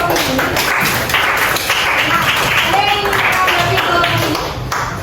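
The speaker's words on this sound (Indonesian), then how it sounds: "beri tepuk tangan untuk kelompok" A classroom group gets applause: a steady burst of many hands clapping fills the room, loud and close, fading slightly toward the end.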